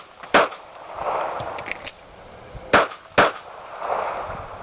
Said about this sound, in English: you're going to fire a couple shots.